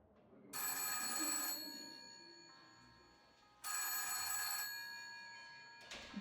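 A telephone rings twice in bright electronic bursts separated by a pause, fairly clear and close with no talking.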